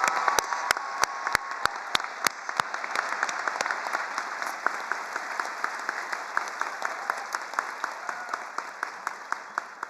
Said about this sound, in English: please join me in a round of applause to thank all of our wonderful